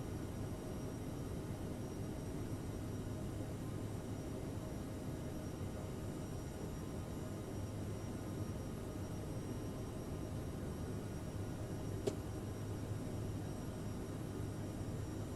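Airliner climbing out after takeoff in Microsoft Flight Simulator 2020, a steady broadband engine and airflow roar holding constant throughout with one faint click near the end.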